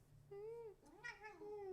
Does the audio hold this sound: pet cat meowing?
yes